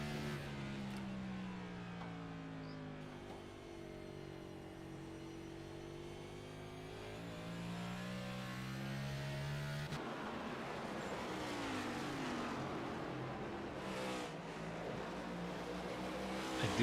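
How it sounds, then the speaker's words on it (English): Race cars at North Wilkesboro Speedway howl around the track during a race, engine pitch rising and falling as cars roar past in a continuous loud drone, with a sharp shift midway. "Maverick Davis in 3 and 4 is just sending it 3-4 car lengths deeper than Evan"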